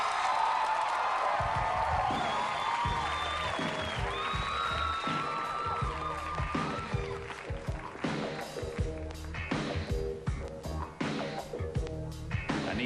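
A studio audience at a 1993 talk show erupts into loud, sustained applause and cheering for David Bowie, dense clapping and whoops filling the room for the whole stretch, with a host's voice briefly over it.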